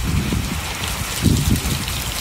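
Steady rain pours off a roof through a Rainhandler dispersal gutter and patters onto grass below, a dense, continuous hiss of drops with no voices.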